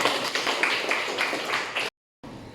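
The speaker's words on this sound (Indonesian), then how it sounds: "Aplaus dulu untuk temannya" A classroom group applauds a classmate with dense, rhythmic clapping for about two seconds before it cuts off abruptly, then briefly resumes.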